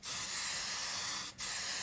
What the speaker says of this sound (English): I'm going to take some really cheap hairspray, and I'm going to spray this area